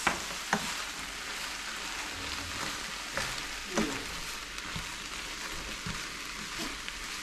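Two small onions frying in a pan for a keto lasagna, with a steady close sizzle throughout and occasional clicks and stirring knocks.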